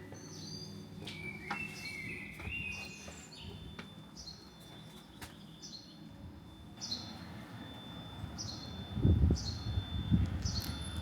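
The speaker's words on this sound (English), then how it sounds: "So the birds are really noisy in this park today." Several birds chirp and sing in short, high bursts against soft outdoor ambience in a park in Seville, Spain, with a low rumble swelling near the end.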